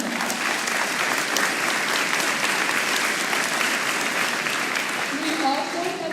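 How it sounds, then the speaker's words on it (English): Sustained audience applause at a high school and middle school spring concert, dense steady clapping filling the room for the full stretch, fairly loud and close, with a little crowd noise underneath. "so give them a round of applause for that"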